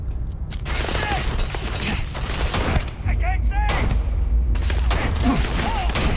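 Combat in the video game Starfield, with grenade explosions and bursts of gunfire sounding loud and close in dense, overlapping volleys, broken by a brief lull partway through.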